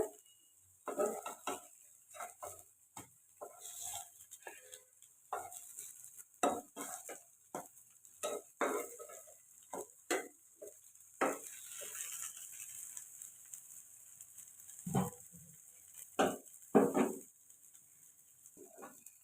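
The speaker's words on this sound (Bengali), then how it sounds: "দেখুন আমার বড়া ভাজাগুলো একদম লাল লাল করে ভাজা হয়ে গেছে" Lentil fritters (bora) fry in a pan while being turned, a faint sizzle beneath repeated sharp scrapes and clinks of a spatula against the metal, irregular and close.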